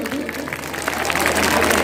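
A crowd at an All India Mushaira gathering claps, a short burst of applause that builds over a couple of seconds, with a voice partly heard beneath it.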